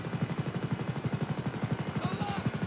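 A helicopter in GTA 5, the Airwolf supercopter, drones steadily with a fast, even rotor chop throughout, loud and close, with a few faint incidental game sounds near the end.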